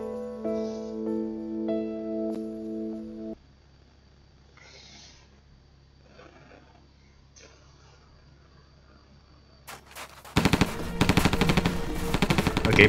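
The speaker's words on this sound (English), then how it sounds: "Okay, people are being shot." Video game gunfire comes in a fast burst of rapid machine-gun shots that breaks loudly near the end, after a quiet stretch with a short musical tone and soft snuffling sounds.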